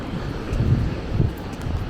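Steady wind rumbles and gusts against the microphone, a low, fairly loud roar with a couple of stronger swells.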